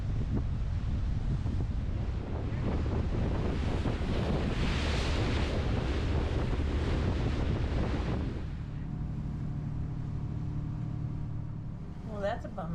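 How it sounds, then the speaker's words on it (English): Wind buffets the microphone aboard a Nordhavn 55 motor yacht cruising Glacier Bay in Alaska, with rushing water and waves along the hull and a low engine rumble beneath; the gusts ease after about eight seconds and a faint voice comes in near the end. "Check out this water."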